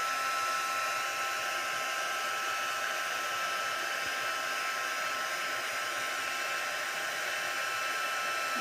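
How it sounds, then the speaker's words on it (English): Heat gun blowing steadily on heat-embossing powder over vellum, a continuous close whooshing hum like a hair dryer that holds unbroken throughout with no talking. "Just make sure you don't get your heat gun too close."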